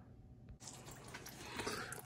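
Coolant draining from the bottom of a plastic radiator on an EP3, a steady trickling, splashing flow that starts abruptly and stays close and continuous, growing slightly louder toward the end.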